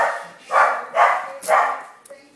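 A dog barks three times in steady succession, loud and close, with a short yip at the end, heard indoors while boxes of parcels are being opened.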